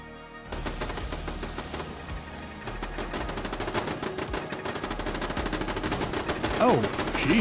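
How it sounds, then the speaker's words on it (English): Rapid automatic gunfire from turrets in Fallout 4, loud and dense bursts sustained throughout, layered over game ambience and other combat noise. "the turrets are starting to fire"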